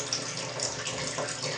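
A weak stream of tap water runs steadily into a bucket as it is filled for a goldfish tank water change, a constant soft splashing rush with no voices.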